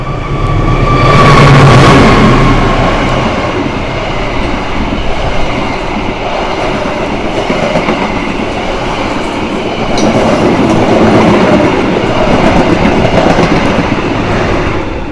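KA Banyubiru executive-class train running between Solo and Semarang in Indonesia, heard from inside the carriage: a loud, continuous rumble with rhythmic wheel clatter, swelling early and then holding steady.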